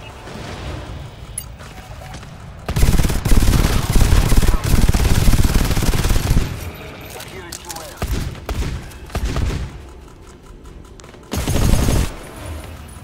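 Gunfire in the video game GTFO: dense bursts of rapid shooting swell and fade over several seconds while players shout and talk over it.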